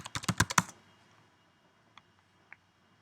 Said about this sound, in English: I'll start by just typing in wooden panels